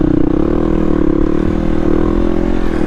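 A 2016 Yamaha WR250R dual-sport motorcycle rides over loose sandy dirt, its engine droning loud and steady with constant rumble and rattle and no pauses.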